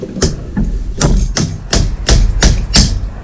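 Rapid hammer strikes drive a fork seal driver onto a 2004 Yamaha R6 fork seal, about eight sharp, close knocks in an even rhythm, the ring shifting as the seal seats.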